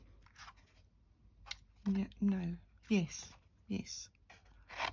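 Scissors fussy-cut stamped paper artist trading cards, giving soft, quiet snips and paper rustles between bursts of close talk from a woman at a craft table.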